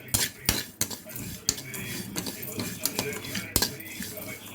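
Sesame seeds and peanuts dry-roasting without oil in a pan on low heat, stirred with a metal utensil: repeated sharp scrapes and clinks against the pan at an uneven pace, close and moderately loud.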